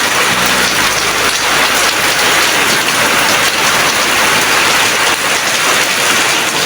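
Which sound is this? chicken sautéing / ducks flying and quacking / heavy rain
heavy rain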